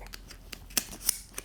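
A sturdy all-metal Cobra-style buckle on a large backpack is worked open and shut by its tab, giving a few sharp metallic clicks and snaps close up over faint handling rustle.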